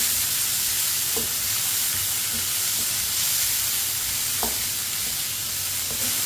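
Chopped tomatoes and finely cut green chilies sizzle and fry in a pan in a kitchen, a steady, continuous hiss with a few soft clinks of a spoon stirring, and no talk.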